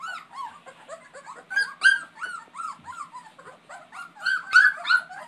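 Young puppies about three weeks old whimpering and squeaking together in a chorus of high, overlapping whines and yelps with a few tiny growls, close and continuous.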